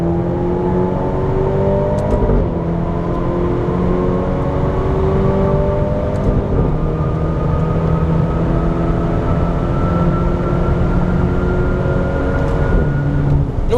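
A Maserati Grecale Modena SUV in manual mode accelerates hard, its engine note climbing steadily through the gears with brief dips at each shift, loud and close throughout.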